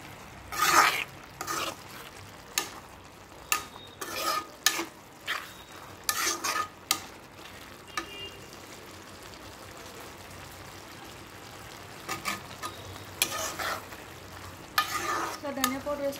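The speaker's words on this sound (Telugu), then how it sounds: "ధనియా పౌడర్ వేసుకొని ఒకసారి బాగా కలుపుకోవాలి" A frying pan of ridge gourd curry with coriander powder being stirred, bursts of scraping and clinking from the spoon against the pan over a steady soft sizzle, with quieter stretches between strokes and no talk.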